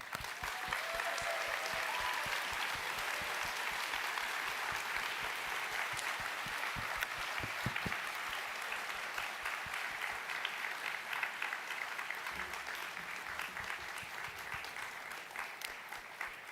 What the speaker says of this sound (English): give them a fantastic round of applause.